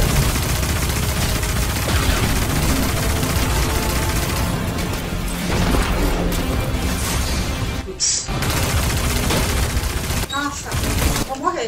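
Dense gunfire and a sniper shot in a shooter video game, a continuous loud barrage of shots and blasts with a brief dip near the end, people talking over it.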